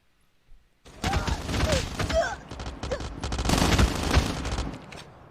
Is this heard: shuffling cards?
no